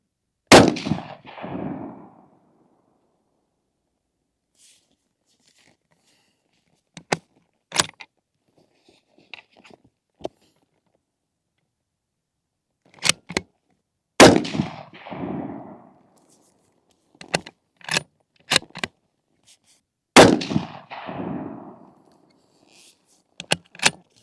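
Three loud, sharp rifle reports from an old bolt-action gun being zeroed with a thermal optic ring out several seconds apart, each followed by a short echo, with metallic bolt cycling and clicking handling noises between shots.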